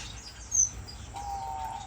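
Owl finches kept in a breeding cage give a short high chirp followed by a faint, thin sustained call, soft and close against a low background hum.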